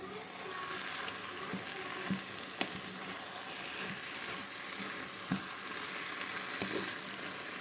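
Sautéing chicken gizzards in a pan with a splash of broth added, giving a dense continuous hiss and sizzle with faint utensil taps now and then, close and even in level, no voices.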